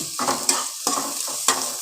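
Chopped onions fry in oil with a steady close sizzle, broken by three scraping stirs of a spatula against the pan at roughly even intervals.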